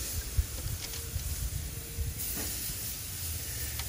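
Close, steady sizzle of pork chops on a hot grill, a continuous hiss with faint crackles.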